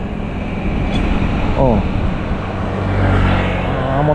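A motor vehicle passes near a rice field, a steady engine rumble swelling toward the end, with voices talking nearby.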